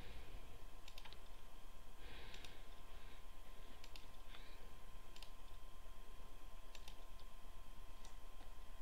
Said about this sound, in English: I'm gonna go click this thingy with buttons on it.